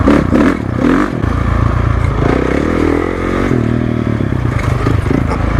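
A 2012 Honda CRF450 four-stroke dirt bike ridden hard off-road, its engine roaring and revving continuously up close, with pitch rising and falling through throttle changes and scraping, clattering bits over the top.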